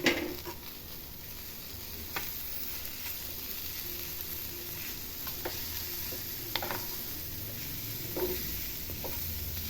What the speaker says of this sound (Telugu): ఆ తర్వాత ఈ పోపు అంతా ఇలా మిక్స్ చేసేసుకొని